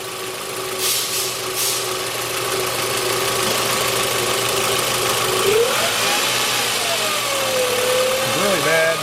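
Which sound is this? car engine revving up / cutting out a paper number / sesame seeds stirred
car engine revving up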